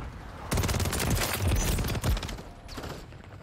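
Rapid submachine gun bursts from a WSP Swarm in Modern Warfare 3, dense rattling fire running almost continuously for about two seconds, a brief pause, then a quieter final burst.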